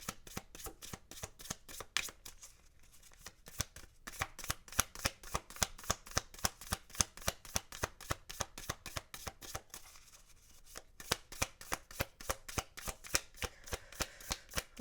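Animal spirit cards being shuffled for a pick-a-card reading, a rapid run of crisp, close riffling clicks in steady bursts, briefly pausing twice before resuming, with no talking.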